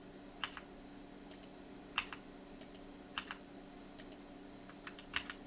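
Soft keystrokes on a computer keyboard come in small bursts of clicks a second or so apart, faint and close, with no talk.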